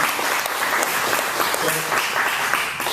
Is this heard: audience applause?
yes